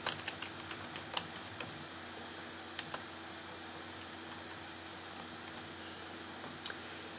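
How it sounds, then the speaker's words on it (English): Keys tap on a computer keyboard as an address is entered, a few faint scattered clicks near the start and one near the end, with quiet room hum between them. "I'm going to come in here and type in an address"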